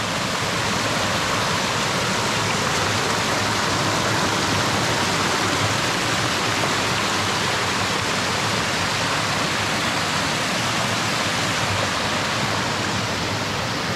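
River current pours steadily at a natural bathing pool in Izabal, Guatemala, a constant broad rushing wash of water, close and even throughout with no voices.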